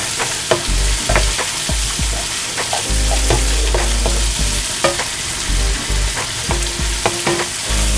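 Ground pork sizzles and spatters in a hot pan as it is stirred for ginisang sayote, with a constant loud frying hiss broken by the sharp clicks and scrapes of the spoon.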